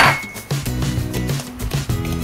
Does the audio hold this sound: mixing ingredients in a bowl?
yes